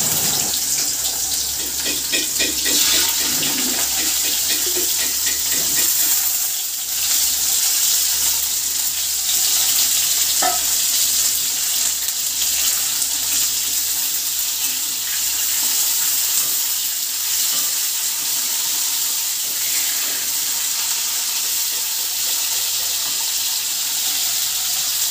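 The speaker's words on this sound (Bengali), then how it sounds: "পরিমাণ মতন নুন দিয়ে উচ্ছেগুলো একটু ভাজবো, লাল লাল করে, একদম কড়া ভাজা করে ভাজবো" Bitter gourd slices frying in hot oil with browned cumin, a steady close hiss and sizzle running the whole time with a few light clinks, no voices.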